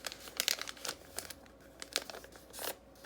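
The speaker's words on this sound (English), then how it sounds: "I'm going to take my book cloth and my graph paper, and I'm going to fold it in half like this, long ways" Book cloth and graph paper being folded in half lengthwise for a junk journal spine, heard as close, quiet bursts of crinkling and rustling with no talking.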